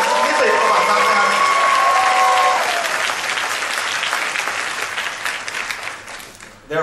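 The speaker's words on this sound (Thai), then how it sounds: "ขอเสียงปรบมือให้กับนิติประวัติศาสตร์นะครับ" Audience applause fills a hall at a leadership talk by a direct-sales company in Thailand, loud dense clapping that holds steady, then thins and fades out toward the end.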